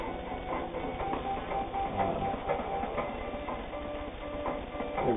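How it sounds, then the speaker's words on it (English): A Singer 201 straight stitch sewing machine runs steadily, its rapid rhythmic needle clatter and motor hum continuing unbroken at close range with no voices. "So this is it, Singer 201 sewing machine."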